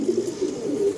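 Racing pigeon, a 50% Benihoma, 50% Vișnaț cross, cooing in a low, continuous throaty murmur, close and steady throughout.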